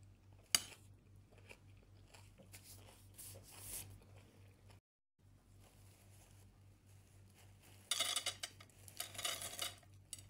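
Crunchy fried bread eaten with chicken curry gives faint, irregular crunches alongside soft clinks of cutlery and dishes, quiet overall with a louder crunchy burst near the end.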